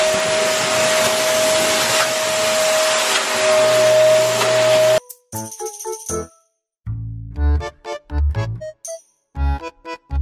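A Dowell vacuum cleaner runs close and loud with a steady whine for about five seconds, then shuts off, leaving a run of clattering knocks and rattles.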